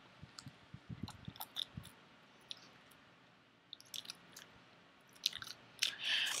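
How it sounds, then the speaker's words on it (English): Gum being chewed close up, with wet, squishy smacks and clicks coming in irregular bursts separated by quieter pauses, ending in a denser cluster of sticky mouth sounds. "there's various ways to chew this gum"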